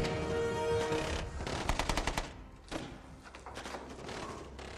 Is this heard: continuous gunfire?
yes